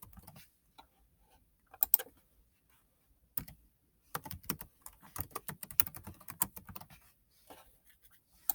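Quiet, close computer keyboard typing comes in scattered clicks and then a faster burst of keystrokes, with short pauses between, as an email address is entered.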